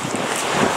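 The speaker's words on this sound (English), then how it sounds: "It's a bit windy." Wind gusting by the sea, a brief breathy roar buffeting the microphone close up, with no talking.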